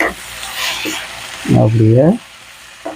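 Mint leaves sauté in a pan for pudina rice, a soft hissing sizzle in the background while a person speaks briefly over it.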